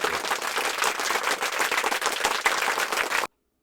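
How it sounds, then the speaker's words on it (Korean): An audience bursts into dense, sustained applause that fills the air evenly before cutting off abruptly. "뜨거운 박수"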